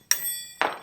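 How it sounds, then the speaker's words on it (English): A wrench dropped onto a workshop floor during a bicycle build gives two sharp metallic clanks about half a second apart, the first ringing briefly before both fade. "Oh, dropped my wrench."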